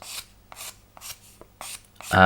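A file rasping the hard edge off a small wooden ship model part, heard as five or six short, close scraping strokes at an even rhythm, each separated by brief pauses, before a louder burst of noise at the end.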